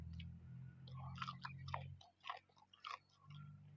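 Crispy salted fried pork fat being chewed up close, a few loud crunchy bites in quick succession over a low background hum.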